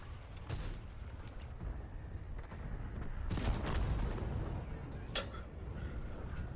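Tank cannon shots from a T-54 in World of Tanks, two broadband bursts against a steady rumbling battle background, with a sharper crack near the end.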